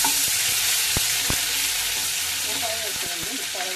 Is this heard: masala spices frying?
yes